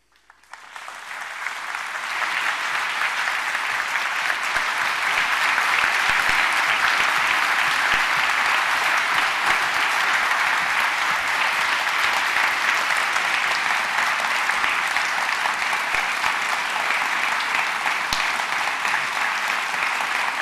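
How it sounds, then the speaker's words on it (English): An audience bursts into sustained applause after a speech by Stephen Hawking at a conference, the clapping rising quickly and holding loud and dense to the end. "We're not going to stop clapping."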